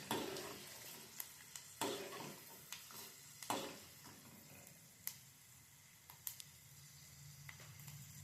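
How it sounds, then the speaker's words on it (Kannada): Peanuts fry in a pan for shavige uppittu, with a soft sizzle under repeated scraping and stirring clicks of a spoon against the pan, close and fairly quiet. "ಆ ಶೇಂಗಾ ಎಲ್ಲ ನೀಟಾಗಿ ಫ್ರೈ ಆಗಬೇಕು."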